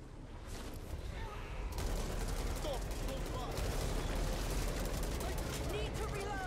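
Video game gunfire, including shotgun fire, comes as rapid, dense bursts in a steady loud volley with talking underneath.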